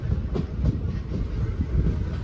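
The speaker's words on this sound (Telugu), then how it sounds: "ప్రస్తుతం మన ట్రైన్ వచ్చేసి మంగళగిరి అయితే చేరుకుంది" Simhadri Express train pulling into Mangalagiri station, with a steady low rumble of wheels and carriages rolling over rails and faint clickety-clack beats, close and continuous.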